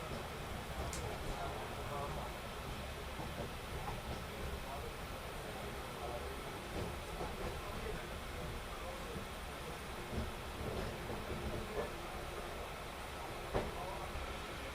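Amrit Bharat Express train pulling into Kozhikode railway station in Kerala, a steady low rumble and hiss of the train and platform with a few faint clanks, talk audible beneath the noise.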